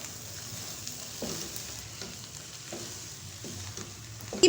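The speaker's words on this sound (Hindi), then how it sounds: "अब हम अपना दम खोलेंगे और हम इसको मिक्स करेंगे" Dal palak with spinach being stirred in a pot just after the lid comes off, a soft steady sizzle with a few scraping spoon strokes and a louder knock at the end.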